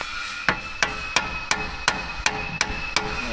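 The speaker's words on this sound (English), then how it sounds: "comes the hammer." A hammer strikes metal nine times at a steady, roughly even pace while a winch is being fitted to a John Deere logging dozer; each blow is loud, sharp and close, with a short ringing tail and no talk between blows.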